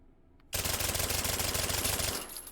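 Suppressed TEC-9 fitted with a stock fires a sustained full-auto burst in the VR shooter H3VR, a loud, rapid, evenly pulsing stream of muffled shots lasting about one and a half seconds before cutting off, with no talking.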